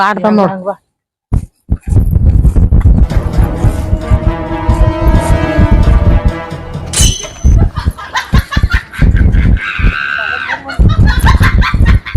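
Chickens cluck and squawk in agitated bursts, mixed with loud overlapping talk and a brief laugh nearby.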